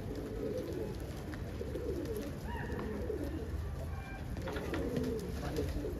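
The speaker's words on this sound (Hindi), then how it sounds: "हर छत पे कबूतर है यहाँ पर" Patiala pigeons coo in soft, repeated throaty phrases from the rooftops, moderately near and steady against a low ambient background with no talk.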